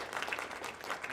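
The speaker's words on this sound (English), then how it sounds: "So a quick round of applause for them." A brief burst of audience clapping at a student council meeting, dense and even, with no speech over it.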